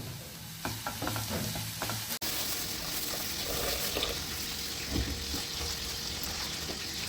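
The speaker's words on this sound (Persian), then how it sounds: "الان که سرخ کردنشون هم داره تموم میشه" Food sizzles steadily as it finishes frying in a pan of oil, with intermittent scraping and stirring, a few light clicks and one brief dropout, close and without talk.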